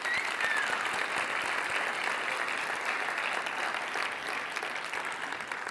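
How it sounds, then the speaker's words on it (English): Large conference audience applauding startup finalists at TechCrunch Disrupt 2025, dense sustained clapping that holds steady throughout and tapers slightly toward the end, heard from within the hall. "let's give a huge, huge, huge round of applause to all of our top 20 companies"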